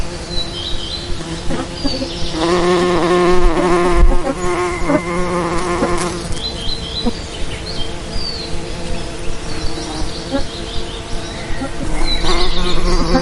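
Aggressive honey bees swarm around an opened hive during a honey harvest, a dense, continuous buzzing close by that swells and eases as they circle.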